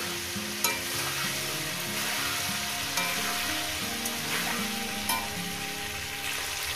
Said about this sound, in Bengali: ফুলকপি আমি ওই একইভাবে লাল লাল করে ভেজে নেব